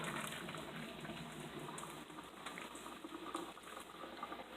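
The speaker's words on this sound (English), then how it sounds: "We just go over here to our sink, dropping all that hot water." A steady rushing splash of hot water from a pot of noodles pours continuously into a sink, a broad hissing gush that stays fairly even throughout.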